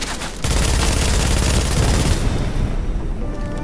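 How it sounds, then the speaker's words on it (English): In a video game, a fire-build attack sets an enemy ablaze and it explodes: a loud, dense roar of fiery blasts starts suddenly, holds for about two seconds, then thins to a fading crackle, with no speech. "Set him on fire, and he exploded in a nice fiery death"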